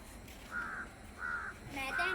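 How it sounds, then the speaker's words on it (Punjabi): Crows caw at dusk in a few drawn-out calls spaced across the moment, fairly faint against quiet background noise. "ਪੰਛੀ ਆ ਗਏ ਪੰਛੀ ਘਰਾਂ ਨੂੰ ਮੁੜ ਪਿਆ"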